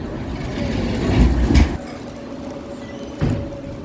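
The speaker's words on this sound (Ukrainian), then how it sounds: "на зустріч іде трамвайчик" A tram rolls along a festive evening city street, a low rumbling roll with clattering bumps that swells, drops off, then surges again briefly near the end.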